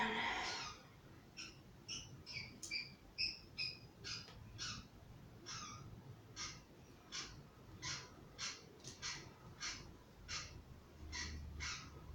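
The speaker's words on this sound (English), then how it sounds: "That bird." A bird calls in a series of sharp, evenly spaced squawking notes, moderately loud over a soft background hiss.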